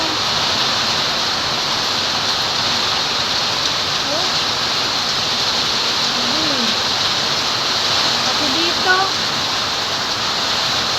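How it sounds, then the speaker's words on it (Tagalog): Steady hiss of heavy rain with water dripping and splashing nearby from a roof leak inside a house, continuous throughout, with a few faint chirping tones in the background. "Ayan ang tulo oh."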